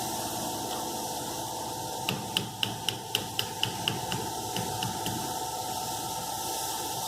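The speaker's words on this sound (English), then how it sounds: "Once again, press on your gear. Finish it with the vise." A gear is pressed into place with a vise during gearbox assembly, heard as a run of about ten sharp, evenly spaced clicks over a steady hiss. The clicks are close and fairly faint, then the background noise goes on alone.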